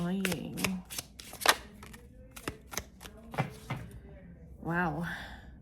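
Tarot cards shuffled by hand, giving a run of quick papery riffles and flicks at close range, with a person talking softly between and over the bursts.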